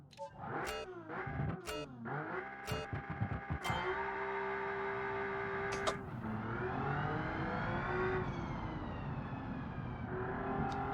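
Simulated supercar engine in the Automation game revving through rapid throttle blips, then holding higher sustained revs with shifting pitch, loud and alone without talk.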